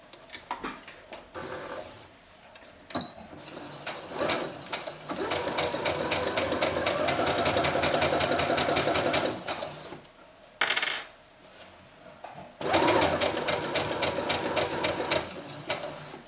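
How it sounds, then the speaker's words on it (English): A sewing machine stitches a romper inseam with a 1/4 inch seam allowance in bursts of rapid, steady needle chatter, starting and stopping a few times, with soft handling clicks between the runs. "I'm going to sew this together using a 1/4 inch seam allowance"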